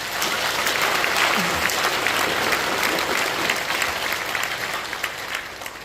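Loud, sustained applause from a large crowd welcoming newly introduced guests at an inauguration ceremony for a Korean Christian council's new president, steady and dense throughout before gradually tapering.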